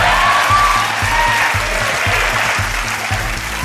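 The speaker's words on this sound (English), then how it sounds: "When Travis said the answer to this question, the audience clapped." A TV studio audience claps steadily and loudly throughout, a dense wash of many hands with no pauses.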